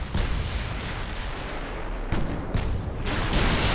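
Heavy naval gunfire from a battleship's main armament in the warship game Ultimate Admiral: Dreadnoughts, with booming blasts cracking out over a constant rumbling battle din, sharp reports near 2.1, 2.6 and 3.1 seconds.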